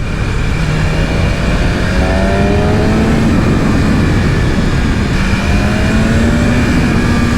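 A 2020 BMW S1000RR sport bike at speed, its engine roaring loud and continuous with wind rush, the pitch sweeping gradually up and down as it is ridden hard through corners.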